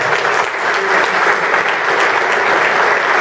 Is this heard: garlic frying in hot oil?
no